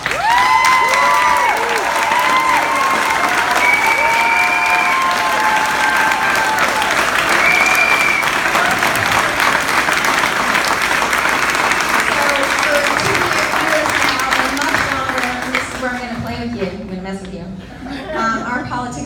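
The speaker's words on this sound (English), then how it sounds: "So please give yourselves an applause." A crowd at a victory speech gives loud, sustained applause with cheers and some laughter. The clapping stays dense and close for most of the stretch, then thins as voices and shouts come through near the end.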